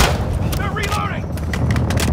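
Gunfire in the video game Call of Duty: Modern Warfare II, with sharp repeated shots cracking over a dense battlefield rumble while a voice shouts amid the noise.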